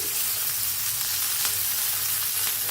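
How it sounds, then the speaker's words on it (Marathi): Chillies, peanuts and garlic roasting in a pan with a dense, loud, continuous sizzle and crackle close by, and no one speaking. "बघा मस्त भाजार आले कसा आवाज यायला आलाय चट चट चट चट"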